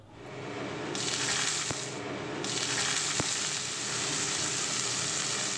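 Salted shapla water lily stems dropped into hot oil with coconut, sizzling in a steady, loud, hissing fry, with a couple of sharp clicks from a utensil.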